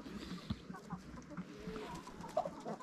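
Soft, scattered clucking from a few chickens nearby, quiet and irregular, with small rustles between the calls.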